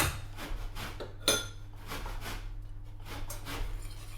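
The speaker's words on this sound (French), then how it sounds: "je mélange la maïzena et le sucre" A large spoon stirs cornstarch and sugar together in a bowl for a lemon meringue tart, giving steady rhythmic clinks and scrapes against the bowl over a low background hum, with no talking.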